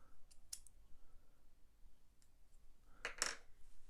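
A magnetised weapon arm clicks onto a Saturnine Dreadnought miniature, giving a short, sharp snap near the end after a few faint earlier ticks, close up and quiet, with no talking.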